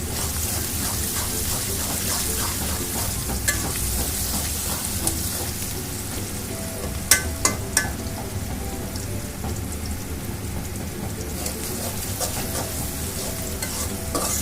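Onions frying to a dark brown in a pan make a dense, continuous, rain-like sizzle close up, with a few sharp clinks of stirring partway through and no voices.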